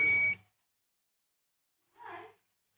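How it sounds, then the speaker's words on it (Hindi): A multimeter sounds two short buzzy beeps, each under half a second and about one and a half seconds apart, while its probes test a capacitor on a mobile phone circuit board, with quiet in between. "इस साइड पे बीप बजर की आवाज़ आ रही है"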